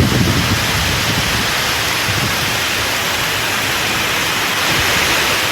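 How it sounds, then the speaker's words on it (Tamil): Heavy rain pours steadily over the town of Pudukkottai, a dense unbroken hiss that stays loud and even from start to finish with no voices. "புதுக்கோட்டை நகர் பகுதியில் 1 மணி நேரத்திற்கு மேலாக கனமழை வெளுத்து வாங்கியது."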